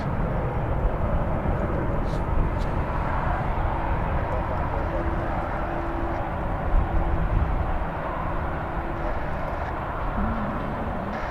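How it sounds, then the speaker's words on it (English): An airplane takes off at Dallas/Fort Worth (DFW) Airport, heard as a loud, steady broadband jet roar that stays continuous throughout, with a faint voice talking under it. "it's not keeping planes from taking off"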